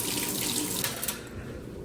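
Water gushes steadily from a tap at a truck stop, a loud, continuous splashing rush with no voices.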